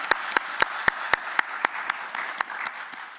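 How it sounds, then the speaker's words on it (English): An audience at a county board of commissioners meeting applauds the fire chief, a steady wash of clapping with sharp, evenly spaced louder claps standing out near the microphone, gradually thinning over the few seconds. "give her a round of applause."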